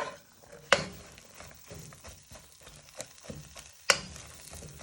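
Leeks and garlic sweating in a pan, with a soft continuous sizzle and scraping stir noises, punctuated by two sharp clanks of the pan being tossed.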